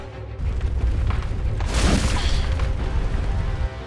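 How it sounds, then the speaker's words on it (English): A heavy Saw Cleaver vertical slam lands in Bloodborne, a single loud booming impact with a burst of crunching noise, then a short rumbling tail. "Backstep strong attack. Vertical crown slam."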